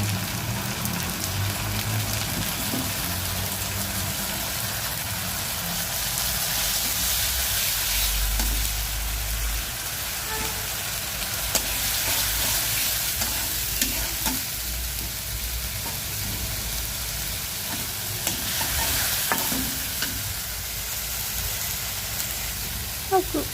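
Fried onions sizzling loudly in hot oil in a pot as ginger, garlic and onion paste is added for a beef and liver curry, continuous crackling with stirring scrapes, while a person talks.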